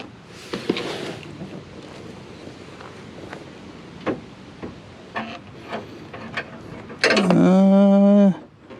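Testing the door lock on a Pontiac Fiero: scattered clicks and clunks of the door and latch mechanism, then a loud, close buzzing whir of the electric lock actuator lasting over a second.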